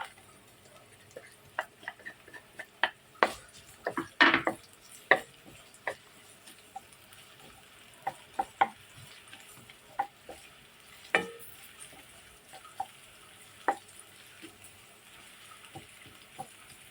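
Garlic sautéing in a pan for Filipino pork menudo, a faint low sizzle beneath scattered sharp clicks and taps of a utensil against the pan, spaced irregularly over a quiet background.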